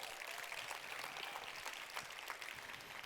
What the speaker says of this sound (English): You can clap for that text. Go ahead.